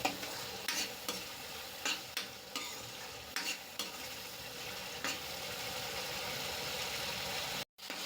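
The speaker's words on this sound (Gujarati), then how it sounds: "તો જો ફ્રેન્ડ, આ આપણા મસાલા અંદર મિક્સ થઈ ગયા છે અને તેલ પણ છૂટું પડતું થઈ ગયું છે" Spice masala for lilva kofta sautéing in hot oil, a steady close sizzle with repeated scraping stirs of a spoon against the pan, running alone without talk.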